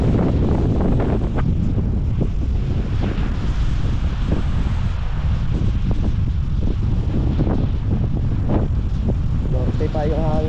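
A strong north wind blows along the seashore where boats have sunk, roaring and buffeting the microphone nonstop with surf underneath, and voices come through faintly beneath the gusts.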